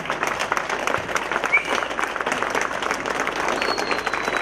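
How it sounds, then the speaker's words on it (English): Guests at a Catholic Christian wedding in Bangalore clap non-stop for the couple, a dense, lively burst of many hands filling the room, with crowd voices and a brief whistle mixed in. "raise your both hands and the next 10 seconds, non-stop clap for Royston and Vanessa"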